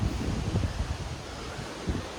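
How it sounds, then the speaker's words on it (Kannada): Strong wind sweeps across a hilltop by a fort in Coorg and buffets the microphone with heavy, rumbling gusts that swell and ease in waves. "ಗಾಳಿ ಅಂದರೆ ಗಾಳಿ, ಹೆವಿ ಗಾಳಿಲಿ."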